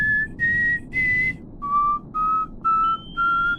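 Active sonar pings from the naval combat game Sea Power, a series of about seven clear, tonal whistling pulses that step in pitch, each sounding briefly over a low rumbling background.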